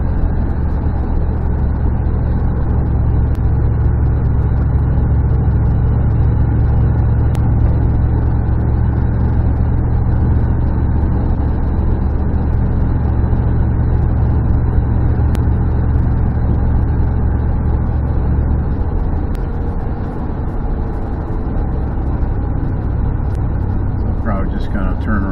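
A Dodge Dakota drives along after a rack and pinion installation, its engine and road rumble loud and steady inside the cab with no break.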